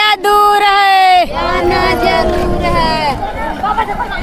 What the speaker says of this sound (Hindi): कितना ज़्यादा भीड़ है।